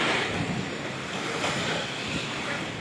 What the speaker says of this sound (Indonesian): terlihat dari hempasan ombak yang menerpa dermaga di Galesong ini